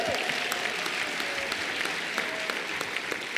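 An audience at a biennial international women judges' conference applauds steadily in a dense, even wash of many hands clapping at once, with no talking on top.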